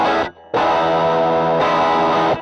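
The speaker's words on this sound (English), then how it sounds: "So here's our open honky chord." A distorted electric guitar rings out an open chord with a thick, honky tone, cut off briefly and then struck again to sustain loudly and close, with no talk over it.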